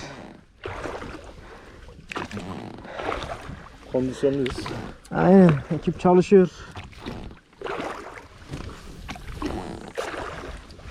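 A boat with a dead battery being rowed with oars, the strokes making steady knocking and splashing under men's conversation.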